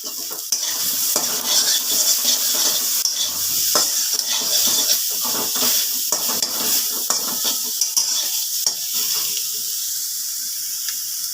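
Eggplant frying and being stirred in a hot wok, with a steady oil sizzle and repeated scraping and clinking of the spatula against the pan, close and continuous throughout.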